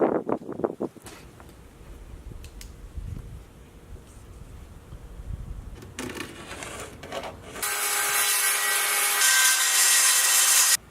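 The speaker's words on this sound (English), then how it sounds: "I'm going to cut the floor out of this piece of plywood here" Plywood is cut into a floor piece for a homemade bike trailer, with scattered handling knocks and scraping first, then a loud, steady power-saw buzz running close up near the end.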